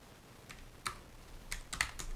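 Keystrokes on a computer keyboard while someone writes script for a Cobalt Plus elevator: sparse, irregular clicks, a lone tap followed by a quicker cluster of several keys, close and clear with no talking.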